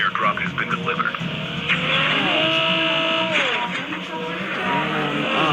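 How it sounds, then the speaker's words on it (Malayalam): Car driving and skidding in the Call of Duty video game, a steady engine roar with tire squeal sweeping through the middle, loud and continuous, with talk over it. "കാറാണ് അത്."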